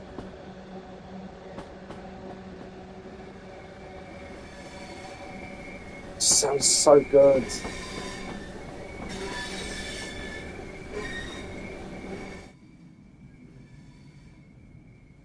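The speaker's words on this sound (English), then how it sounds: "I love the sound of going over points." A Class 465/9 electric train running over points, heard from the cab: steady low rumble with rhythmic wheel clatter, a loud burst of high metallic squeal midway, then the running noise drops away; a voice speaks briefly over it.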